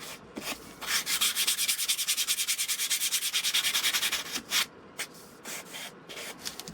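Close sanding of balsa glider wings with a block, a fast run of about twenty rhythmic rasping strokes followed by a few slower, scattered rubs, with no talking.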